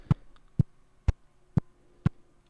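Percussion chopped into a quarter-note glitch effect by a Hologram Microcosm pedal: six evenly spaced, sharp thuds at a steady pulse, quiet and dry between hits.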